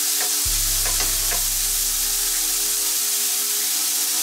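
Prawns for a one-pot seafood noodle dish frying loudly in a pot, a steady dense sizzle throughout with a low rumble joining briefly near the start.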